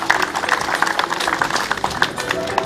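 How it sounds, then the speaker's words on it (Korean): Audience applause at the opening ceremony of the Icheon Peach Festival, a steady wash of clapping from a crowd that continues throughout, moderately loud, with a faint voice mixed in. "박수 부탁드리겠습니다."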